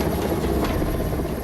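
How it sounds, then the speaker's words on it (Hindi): An Air Force rescue helicopter flying over flood-hit Junagadh in Gujarat during heavy rain, a loud continuous rotor and engine roar that stays steady and close throughout. "सुबह वायुसेना का हेलीकॉप्टर मोर्चे पर उतरा"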